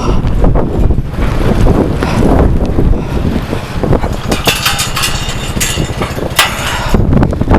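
Strong, gusting wind roars and buffets the microphone throughout during a major April blizzard outdoors, loud and constant with rising gusts and no talking.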